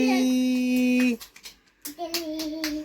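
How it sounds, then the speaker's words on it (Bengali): A few sharp hand claps scattered among a child's sung and spoken voice at home, near and fairly light, with pauses between them. "হাততালি হাততালি"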